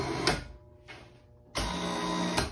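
A golf cart winch switched on and running, giving a steady electric motor whir that cuts out briefly and then resumes, close and loud with no talking.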